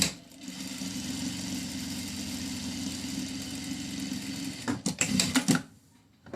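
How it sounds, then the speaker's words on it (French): A sewing machine stitching a neck warmer seam runs steadily with a fast mechanical hum and rattle, close and constant, then slows into a few uneven thumps and stops. "je vais venir coudre ici à 1 cm"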